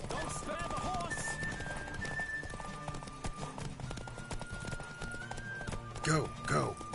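Continuous hoofbeats from a galloping horse in The Witcher 3 drive along with loud game ambience, topped by voices and a couple of sharp neighs near the end.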